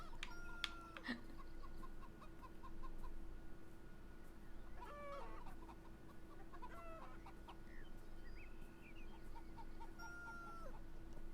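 Chickens clucking and squawking in a chicken pen in the video game Beyond Eyes, scattered calls over a steady hum of ambience, moderately near with no talk.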